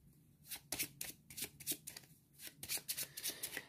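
Playing cards drawn and handled during a solo game of the racing board game Heat: a close series of crisp, papery rustling bursts in an irregular rhythm, with no talking.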